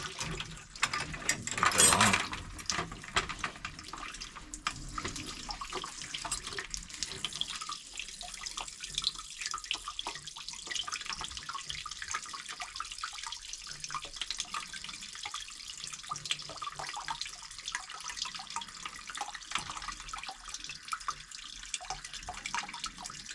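Excess water drains from a boiler valve into a bucket, pushed out by tank pressure: a steady, moderately loud stream of splashing water with a louder gush near the start, continuing without talk for the full length.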